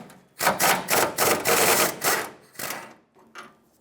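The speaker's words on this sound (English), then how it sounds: "Get your socket on there and remove the bolt." A 13mm socket ratchet backing a bolt out on a 1996-2002 Toyota 4Runner rear bumper end, a rapid clicking buzz in several close bursts with brief pauses between them.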